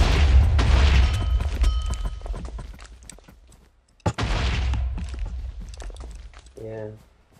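Booming video game explosions on the Black Ops 2 Carrier map rebuilt in Minecraft, one long rumbling blast that fades, a sharp crack, then another heavy rumble, with a voice speaking briefly near the end.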